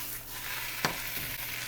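Turkey meat frying in a hot pan for a turkey melt sandwich, a steady close sizzle with one sharp clink or stir noise partway through and no voices.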